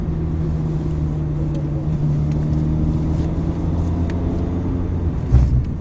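A sports car on a track runs at full throttle in fifth gear, heard from inside as a loud, steady engine drone and rumble with a brief bump near the end.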